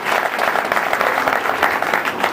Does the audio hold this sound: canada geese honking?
no